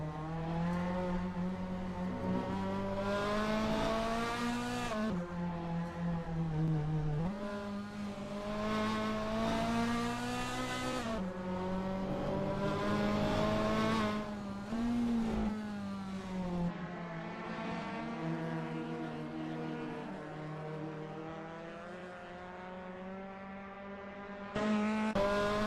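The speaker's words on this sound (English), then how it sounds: "That VAC Fiat 131 looks good driving through Yokohama S." Vintage Fiat 131 race car in a racing video game, engine roaring loud and close through the Yokohama S chicane at the Nürburgring, pitch rising and dropping with gear changes and braking across the run.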